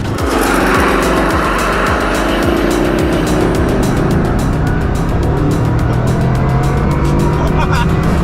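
A 2021 Bugatti Chiron Super Sport launches hard and accelerates, its engine loud and close from inside the cabin with rising pitch through the gears, a continuous roar throughout.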